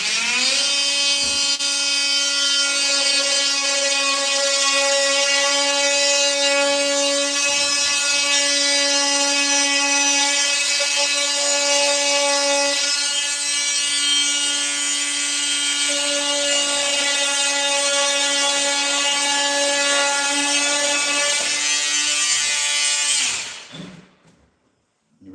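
Power tool cutting wooden trim: a loud, steady high-pitched whine lasting about 23 seconds before stopping abruptly, up close with no talk.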